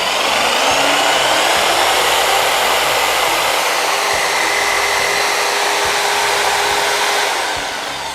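A Mollar JS650 electric jigsaw runs freely at its set speed, producing a loud, steady, close whining motor drone with a faint high tone that holds for several seconds before tapering slightly at the end.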